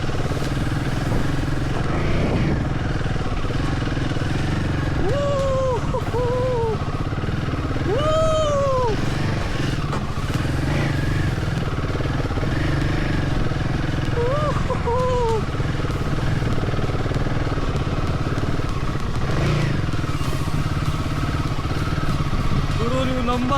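An H450 motorcycle climbs an off-road hill, its engine droning steadily with several rising, revving whines in short bursts, close and loud over rough outdoor noise.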